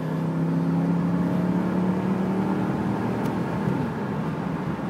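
A 2005 Dodge Ram 1500 Hemi pickup engine revs and accelerates hard, a loud, steady V8 drone with a slight pitch rise, heard continuously from inside or near the truck with no talking.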